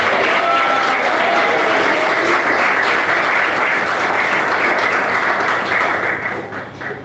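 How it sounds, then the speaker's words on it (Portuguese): Congregation clapping steadily in a church, a dense, continuous wash of applause filling the room, tapering off near the end. "Pode bater palmas."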